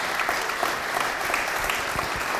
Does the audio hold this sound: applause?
yes